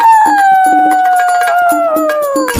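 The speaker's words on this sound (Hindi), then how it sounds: "वो लोमड़ भी लोमड़ियों के सुर में सुर मिलाकर चिल्लाने लगा" A fox in an animated folk tale lets out a single loud, sustained howl that slides slowly downward in pitch, with faint clicks and a brief burst of noise at the end.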